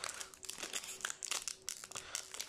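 Close, steady crinkling and tearing of a foil Magic: The Gathering booster pack wrapper being pulled open by hand, a dense run of crackles and rips with no talking.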